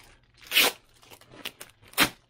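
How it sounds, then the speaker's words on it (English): Packing tape tears away from a new large tactical backpack's packaging in three sharp ripping pulls, close and loud, with quieter crinkling between them. "let me try and get this last bit of tapey tape off"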